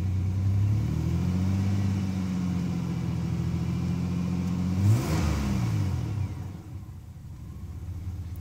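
A 1999 Chevrolet S10 Blazer engine runs steadily and loud, low-toned, then rises briefly in a rev near the five-second mark before settling into a quieter, uneven idle as it struggles on a nearly empty fuel tank.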